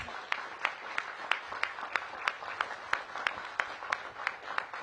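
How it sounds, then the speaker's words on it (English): At a Washington, D.C. mayoral announcement of a new Metropolitan Police chief, a few people clap in an even rhythm. The sharp claps are faint and distant, and no one speaks. "Give Pam a big round of applause."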